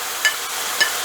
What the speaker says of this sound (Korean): 파, 양파를 넣고 빠른 불에서 빨리 볶아줄 거예요